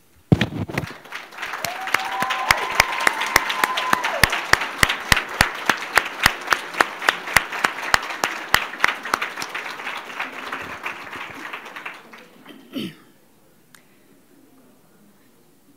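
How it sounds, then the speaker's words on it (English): Audience applause at an Associate Degree Nursing pinning ceremony: dense, steady clapping from a large crowd that swells quickly, holds for about eleven seconds, then fades out with a few last claps. "giving a round of applause to our family and friends who supported,"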